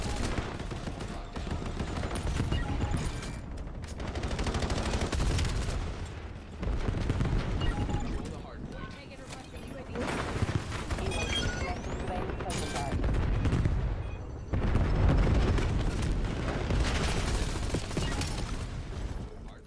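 Gunfire from weapons in the video game Black Ops 7, with bursts of automatic fire and shots in a Hardpoint match, loud and near in several stretches, with in-game talk and commentary mixed in.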